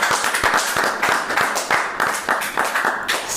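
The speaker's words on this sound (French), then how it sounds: "on peut s'applaudir" A small group applauding after an interview, steady rhythmic hand claps close by for a few seconds, fairly loud and even, with no talk over them.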